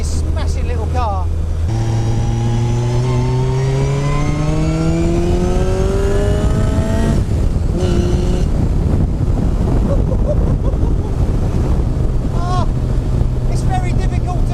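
A supercharged Striker 240S sports car engine with a straight-cut gearbox whines loudly at around 6,000 RPM, its pitch climbing steadily as it accelerates, with wind roar and a voice talking over the engine.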